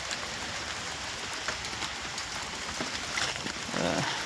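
Steady rain falling on a tree on a farm, a continuous hiss of drops spread evenly across the whole stretch, fairly soft with no voices.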